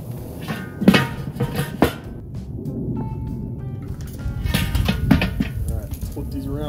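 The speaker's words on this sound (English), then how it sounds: "It's about time to get these steaks flipped." Hanger steaks flipped on a grill: a couple of close metallic clanks and tong scrapes over a steady sizzle, with someone talking over much of it.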